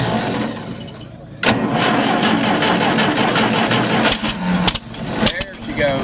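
Allis Chalmers D17 Series 3 tractor at an estate auction in Ohio, its engine cranking and catching, then running loud and rough nearby while people talk over it.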